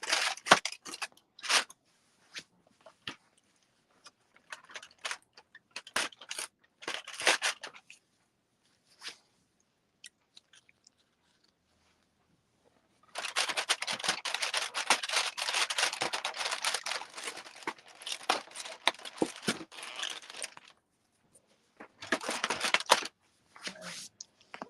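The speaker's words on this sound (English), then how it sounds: "Apparently I'm gonna open the chocolate things by myself." Plastic wrappers around chocolate crinkle and snip up close, with sparse cuts and rustles followed by a longer stretch of continuous crackling and tearing, all without talk.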